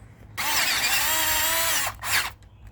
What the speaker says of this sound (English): I'm just going to drill the threads